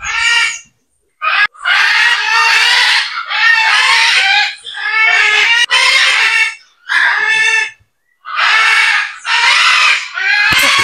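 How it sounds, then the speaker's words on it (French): Howler monkeys calling in a wildlife park in Guadeloupe, a loud series of long roaring, rasping howls in repeated bursts with short pauses between, close and unaccompanied by talk. "Singes hurleurs."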